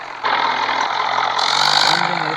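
A tractor engine running close by with a steady, loud mechanical drone. It swells slightly partway through, with no voices.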